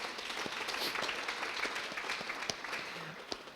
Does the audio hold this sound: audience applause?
yes